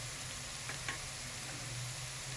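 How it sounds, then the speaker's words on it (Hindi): Onions frying with spices for a fish curry, a faint, steady sizzle in a pan with a couple of soft stirring knocks, no talking. "हमारे प्याज अच्छी तरीके से फ्राई हो जाते हैं।"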